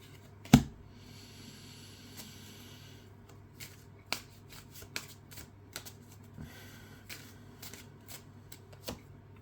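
Tarot cards handled and shuffled close up, with one sharp slap of a card at the start followed by scattered soft flicks, riffles and snaps in an otherwise quiet room.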